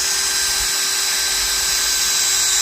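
A drill-powered water pump runs at maximum speed, giving a loud, continuous high-pitched whine with a steady tone and no variation throughout.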